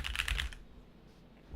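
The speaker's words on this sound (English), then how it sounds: "here's what it sounds like when I type on the keyboard" A quick, close burst of keyboard clatter lasts about half a second, then fades into near silence.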